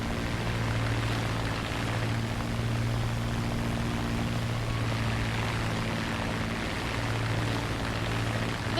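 Engine drone of a Mosquito twin propeller plane in the game War Thunder, a loud continuous hum with a steady low tone and broad rushing noise, alone with no talk.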